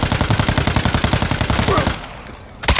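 Rapid automatic gunfire in Call of Duty: Modern Warfare II, loud and close with evenly spaced shots, then a sudden stop, a quieter stretch and one more sharp shot at the end.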